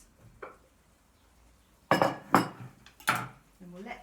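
Olives dropped into a pot, giving several clattering clinks of metal and glass in a brief cluster, close and fairly loud, with a faint voice near the end.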